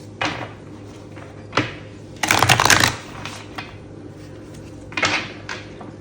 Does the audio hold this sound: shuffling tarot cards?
yes